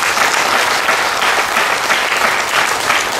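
Loud, steady applause from an audience at a spiritual talk, dense and continuous clapping filling the whole stretch without a break or any voices on top.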